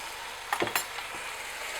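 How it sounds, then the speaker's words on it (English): Ground beef browning in a pan over medium-high heat, a steady close sizzle with a few brief scraping knocks as the meat is broken up, no talk. "I'm just going to cook this again on a medium-high heat, breaking it up as we go until the meat's browned"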